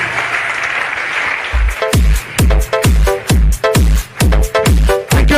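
An audience at a motivational speech breaks into a burst of loud applause, then heavy rhythmic beats take over, pulsing steadily until the end.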